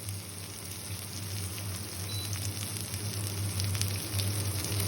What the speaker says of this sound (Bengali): এই যে পাতাগুলো এখন আমি ভেজে নিচ্ছি